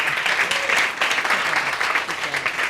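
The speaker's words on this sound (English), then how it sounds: "Give her another round of applause" Applause for a woman writer at a campus writing-center reading, steady crowd clapping with faint voices mixed in, filling the room for a few seconds.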